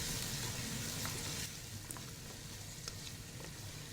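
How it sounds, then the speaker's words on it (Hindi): Beef sizzles in a pan for a beef tandoori masala, a steady close crackling fry with occasional sharper pops and stirring. "जब आपका गोश्त अच्छा सा फ्राई हो जाए, गोश्त का कलर चेंज हो जाए"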